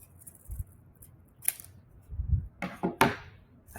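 Scissors snipping through a folded, creased sheet of paper in an arts and crafts session, a few short crisp cuts and rustles close by with no talk.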